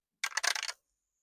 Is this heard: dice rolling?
yes